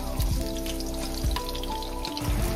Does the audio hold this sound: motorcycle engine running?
no